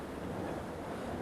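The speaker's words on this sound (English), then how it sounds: "it's kind of pouring down rain here, so sorry for the extra noise" Heavy rain pours down outside in a steady, dense hiss that fills the whole moment without a break.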